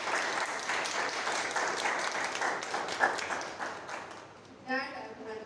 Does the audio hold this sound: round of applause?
yes